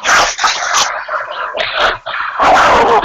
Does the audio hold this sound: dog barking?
yes